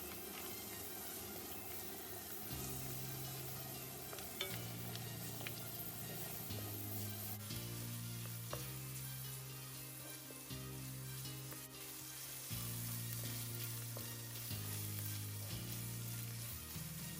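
Frozen prawns frying in a single pot for Ghanaian vegetable fried rice, giving a loud steady sizzle with a few clinks and stirring knocks, over a continuous low background hum.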